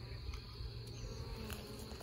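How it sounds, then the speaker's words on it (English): Bees swarming in a backyard tree give off a steady, close insect drone as a cluster is knocked loose from a limb, a constant hum with no talking. "Knocking a bunch of bees loose."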